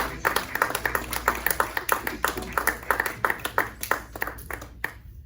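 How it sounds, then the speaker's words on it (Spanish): A church congregation claps steadily and rapidly in a dense, rhythmic burst of applause during worship, with Spanish-speaking voices faintly mixed in underneath. "Dale un fuerte aplauso al Señor, hermanos."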